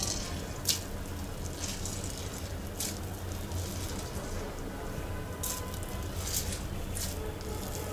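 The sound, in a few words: squeezing water out of salted chopped onions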